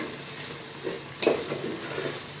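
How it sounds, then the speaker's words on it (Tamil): Biryani masala with chili powder being sautéed in a pan, a low steady sizzle with a few scraping stirs of a spoon, close and fairly quiet with no voices. "மிளகாத்தூள் போடுறேன் போட்டு நன்றாக வதக்கிடுங்க நல்லா வதக்குறேன்"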